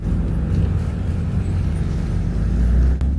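BMW car pulling away from a corner with the clutch engaged, a steady low engine rumble that swells louder near the end, close and without talk.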